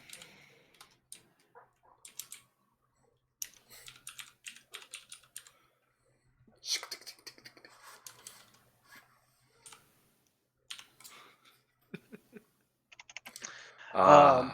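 Typing on a computer keyboard, irregular bursts of quick clicking keystrokes with pauses between, close but quiet, ending in a brief louder noise.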